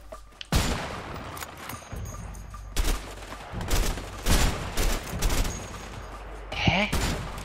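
Bursts of gunfire in the video game A Way Out, from a sniper rifle on a high position: a string of loud, separated shots with echo tails, mixed with players talking.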